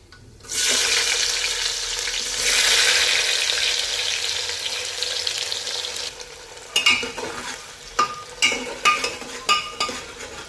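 Onion added to hot oil with cumin and mustard seeds for Nagpur-style masale bhat, a loud hiss of frying that settles into a steady sizzle, then a string of sharp stirring clacks near the end.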